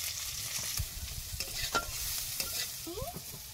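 Chili and onion fry in mustard oil, a soft steady sizzle with a few scraping stirs of the pan, faint and close in a village kitchen.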